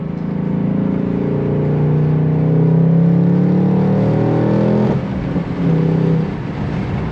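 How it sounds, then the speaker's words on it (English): Loud, steady in-cabin growl from a Ford Mustang Dark Horse 5.0 Coyote V8 accelerating in moderate traffic, its pitch climbing then dipping at a shift before pulling again, with no voices. "you cannot go wrong with the sound of the Coyote engine"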